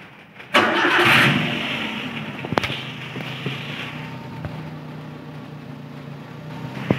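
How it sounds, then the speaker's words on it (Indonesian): A car engine starting with a short cranking whir, catching into a loud rev that settles to a steady idle, with a few faint clicks over the hum. "Sekarang kita hidupkan."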